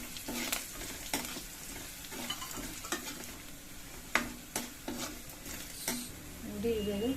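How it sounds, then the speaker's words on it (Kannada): Curry leaves fry with garlic and peanuts in a pan for makhana chivda, a crackling sizzle punctuated by repeated sharp scrapes and knocks of a spoon against the pan at irregular intervals. "ಈಗ ಕರಿಬೇವಿನ ಸೊಪ್ಪು ಹಾಕೊಂಡ್ಬಿಡ್ತೀನಿ."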